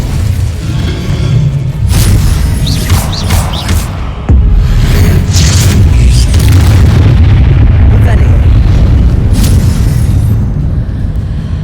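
A Confringo fire spell explodes in the Hogwarts Legacy video game, a loud booming blast that rolls into sustained rumbling. Several sharp bursts are scattered over a dense, continuous low roar, loud and close throughout.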